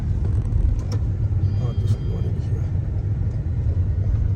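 A Lexus NX 300h hybrid SUV cruising on an Indian expressway near Lucknow, giving a steady, loud low road and engine rumble with tyre noise throughout, unbroken and close.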